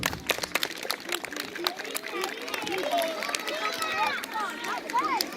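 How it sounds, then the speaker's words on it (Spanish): An audience of schoolchildren and adults claps for sixth-grade students at a Día de Andalucía school event, with dense, sustained applause mixed with crowd chatter and shouts throughout. "Un aplauso para ellos."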